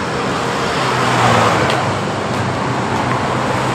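Steady road traffic rumbles beside a bus stop near a hotel and convention centre, a continuous loud wash of engine and tyre noise with no talk over it.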